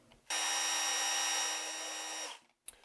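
A Makita DHR 182 cordless hammer drill revs up hard and runs at high speed for about two seconds, a loud steady whine with a hammering buzz, then spins down, followed by a brief click.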